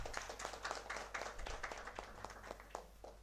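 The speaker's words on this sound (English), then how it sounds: "Please give a huge round of applause." An audience at a conference felicitation applauds, a dense patter of many hands clapping at a distance, faint and steady with a low room hum beneath.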